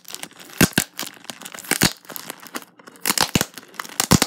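Product packaging being torn open by hand, a series of sharp ripping and crinkling bursts in an irregular rhythm, close and fairly loud, with no talking.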